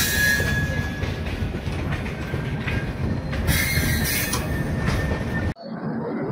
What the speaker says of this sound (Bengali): ট্রেন এই ভদ্রকে ঢুকছে